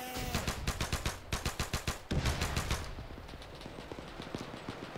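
Rapid automatic covering fire in a D-Day combat video game, a fast rhythmic string of close, loud shots that slows into scattered quieter shots.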